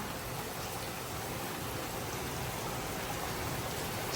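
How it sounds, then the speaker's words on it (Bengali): Steady rain falls outside a balcony, an even, continuous hiss of drops that stays constant from start to finish with no talk. "বাইরে বৃষ্টি হচ্ছে আর ও সেটা দেখছে দেখো"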